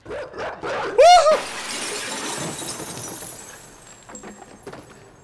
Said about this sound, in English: Oh man, the dog is hunting me.